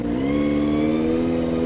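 A Kawasaki ZX25r inline-four motorcycle engine revs nearby, holding a loud, smooth, steady high-pitched whine throughout the short burst, with no talking.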